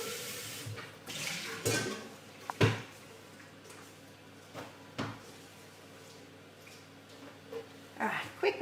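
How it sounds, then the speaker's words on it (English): A mixing bowl being washed by hand in a kitchen sink, with bursts of running tap water, clunks and knocks of the bowl, and scattered handling noises between quieter pauses. "I'm going to give my bowl a quick wash so that I can get ready to do our topping"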